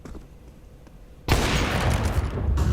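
Gunfire in a Counter-Strike match, quiet background clatter giving way to a sudden loud burst of rapid, dense shots that continues to the end.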